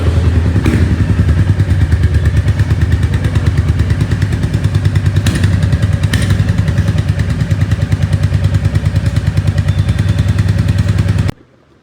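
A new Royal Enfield Standard 350 Bullet runs close by with a loud, steady, rhythmic single-cylinder thump, then cuts off abruptly near the end.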